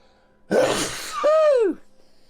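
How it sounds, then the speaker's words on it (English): A single loud, close sneeze: a sharp breathy burst followed by a rising-then-falling voiced "choo". "And I'm going to sneeze."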